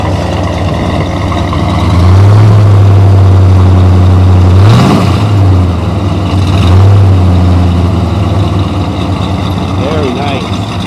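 A 1967 Dodge Coronet idles with a deep, steady exhaust rumble, swelling briefly as it revs, while a person talks nearby over the sound.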